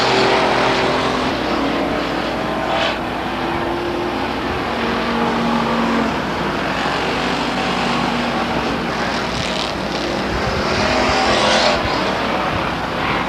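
Amateur stock cars race around the asphalt oval at Stockton 99 Speedway, their engines roaring steadily and loudly as the pack passes, with pitch swelling and fading over a continuous din.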